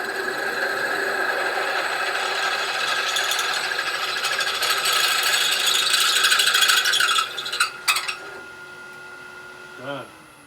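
A metal lathe drills at about 800 RPM, giving a steady, close mechanical whirring and grinding that runs for several seconds, then stops with a few clunks and a short whine.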